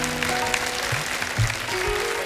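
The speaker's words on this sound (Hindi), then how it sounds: "आप सबकी तालियों के बीच इनवाइट करना चाहूंगा" An audience applauds on a stage show as guests are welcomed, with a dense, continuous clapping wash under music and background sound.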